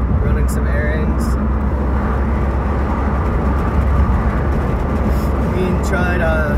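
Steady interior road noise from a car being driven on errands, a constant low rumble and tyre roar filling the cabin from start to finish.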